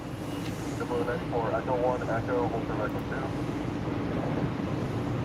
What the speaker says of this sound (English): there's JetBlue 94 is gonna taxi to the runway, going on the takeoff runway